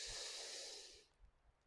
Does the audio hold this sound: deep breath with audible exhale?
yes